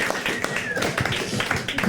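A live crowd applauds Stanislas at a radio station's third-anniversary party, with dense, steady clapping close by throughout the clip.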